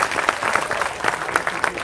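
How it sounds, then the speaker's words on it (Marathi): Audience applause at a protest gathering in Nashik: a dense, steady burst of many hands clapping, close and fairly loud throughout. "जरा टाळ्या वाजून जरा अभिनंदन करा"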